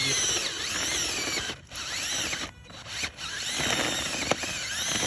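A cordless power drill bores a deep hole into dirt for a coyote set, its steady motor whine grinding continuously with brief dips as the bit bogs and recovers.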